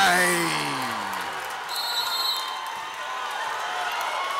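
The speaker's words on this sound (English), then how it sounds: "Tremaine woke up the crowd with that one, as if it wasn't loud enough" A packed high school gym crowd roars with cheers and whoops after a slam dunk in a Port Huron vs Port Huron Northern boys' basketball game, a loud sustained din with a brief high whistle-like tone in the middle.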